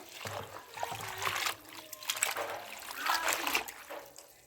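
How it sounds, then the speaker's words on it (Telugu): Gongura (sorrel) leaves are rinsed by hand in water, with close splashing, trickling and dribbling sounds that rise and fall in uneven swishes. "నీళ్ళలో ఇట్లా ఒక రెండు మూడు సార్లు కడుక్కోవాలి శుభ్రంగా కడుక్కోవాలి"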